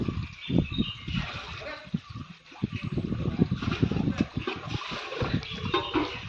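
Hot bath water splashes and sloshes repeatedly outdoors in a village setting, with scattered close splatters, while people talk over it.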